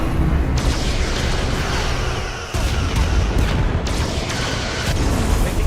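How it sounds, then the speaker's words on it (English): Starship weapons fire and explosions in the Star Trek: Resurgence video game: a loud, continuous rumbling barrage, punctuated by heavy booming impacts and sharp blasts that recur every second or so, with no voices. "Taking heavy fire."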